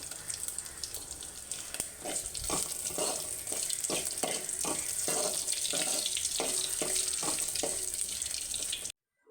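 Garlic cloves frying in a tempering for ajwain rasam give a steady, fairly loud hiss and sizzle with repeated soft crackles, running without pause before cutting off abruptly at the end.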